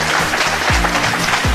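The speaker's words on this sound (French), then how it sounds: "On peut applaudir à l'équipe verte" A studio audience on a Mauritian TV game show claps for the green team. The sustained applause runs over a low, droning musical tone with a couple of swooping bass notes.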